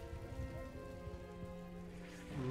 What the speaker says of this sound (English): Raining, which is a bummer.